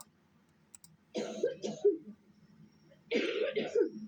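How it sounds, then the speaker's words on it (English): Two separate bursts of raspy coughing, each a short cluster of hacks, separated by a brief quiet gap in an otherwise hushed room. "There's a crack cough."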